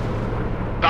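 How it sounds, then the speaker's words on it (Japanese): A WW2 enemy warplane explodes in the video game Warplanes, heard as a dense, booming rumble that flares into a sharp, louder blast right at the end of the brief moment. "敵機破壊。 落としたぞ。"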